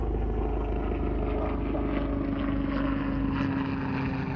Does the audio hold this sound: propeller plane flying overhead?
yes